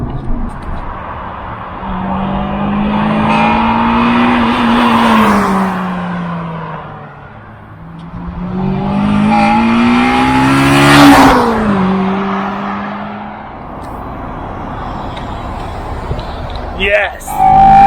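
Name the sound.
Honda Integra Type R DC5 engine with Tegiwa carbon airbox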